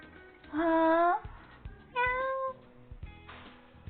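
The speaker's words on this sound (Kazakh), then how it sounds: "Кішкене мысықтар тордан қашып кетті." Kittens in an animated cartoon give two clear, drawn-out meows in quick succession, loud and close, followed by a fainter third cry, with light background sounds between them.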